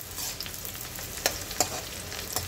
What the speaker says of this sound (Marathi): आता याला आपण या कांद्याला छान परतून घ्यायचं आहे.